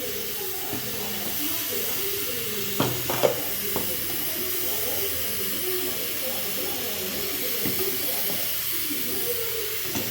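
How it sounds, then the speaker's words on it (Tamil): Steady bubbling and hissing of paruthi paal with jaggery and ginger boiling in a pot, continuous and close, with a few soft clinks. "நல்லா கொதிக்குது."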